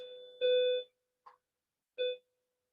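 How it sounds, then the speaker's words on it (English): A school lunch bell in a classroom sounds as clear electronic tones, a held note, a brief blip, then another short tone, fairly faint and alone without speech. "Another lunch bell."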